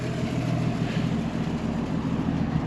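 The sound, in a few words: 1953 Ford Customline engine with dual exhaust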